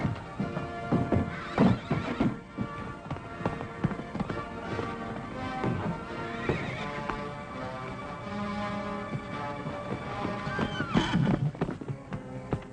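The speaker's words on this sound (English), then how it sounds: "The white mare is loose!" A loose white mare whinnies loudly several times while her hooves clip-clop in an irregular rhythm, up close and with no talking.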